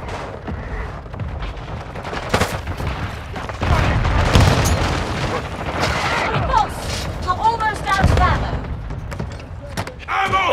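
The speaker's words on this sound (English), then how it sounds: "Hostile mortar strike in the area." Mortar strikes land in Call of Duty Modern Warfare II, repeated heavy booms and thuds mixed with gunfire across a busy battlefield, with radio voices talking over them.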